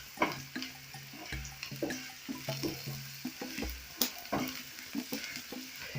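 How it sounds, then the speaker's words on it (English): Ingredients for a creamy coconut fish curry being stirred in a pot, a steady frying sizzle broken by repeated scraping strokes and soft knocks of the spoon, close and moderately loud with no talking. "Then I'm going to stir this."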